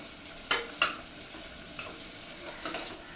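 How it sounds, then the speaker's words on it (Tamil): Onions sautéing in a pan for a Kongunadu-style mutton kothu kari, a steady low sizzle with a couple of sharp scraping stirs early on and lighter stirring later, close and with no voices. "வெங்காயம் வந்து ஓரளவுக்கு நல்லா வதங்கணும்"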